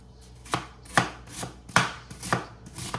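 An onion is sliced on a cutting board with five or six distinct knife chops at an uneven, unhurried rhythm. The strokes are close and clear against a quiet background.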